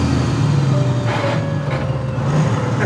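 A heavy truck engine drones steadily up close, a low continuous rumble with a faint high whine, no voices.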